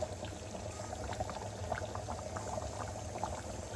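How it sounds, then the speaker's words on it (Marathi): A pot of chicken curry bubbles steadily at a rolling boil, with small pops and gurgles throughout and no talking. "आणि याला त्याला छान अशी उकळी आलेली आहे"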